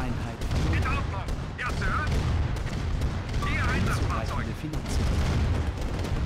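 Tank cannons and gunfire in Red Alert Remastered, Aftermath Allied campaign, form a dense, continuous barrage of booms and shots, with brief voice-like chatter over the battle.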